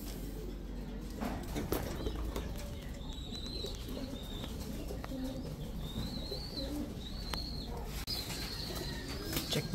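Ice pigeons in a loft give soft repeated coos and occasional wing flaps over a steady background hum, with faint voices nearby.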